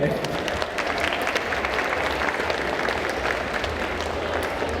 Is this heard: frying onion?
no